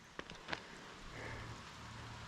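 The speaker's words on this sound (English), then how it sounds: "It's raining this morning," Faint, steady patter of rain on a hiking trail in the morning, with a couple of sharper nearby drips or taps early on and a soft continuous hiss throughout.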